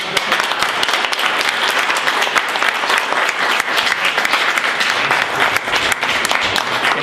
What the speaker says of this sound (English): And I'd like to give another round of applause.